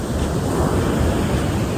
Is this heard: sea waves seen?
yes